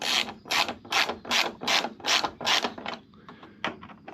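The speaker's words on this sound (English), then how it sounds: "Get the ratchet" A hand ratchet wrench threads screws into place in a car engine bay, giving about seven loud, evenly spaced clicking bursts up close, then a few softer, irregular clicks.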